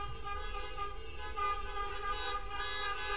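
Car horns sound from a group of vehicles driving through a city at night. The honking is sustained, overlapping and steady, over a low rumble of traffic.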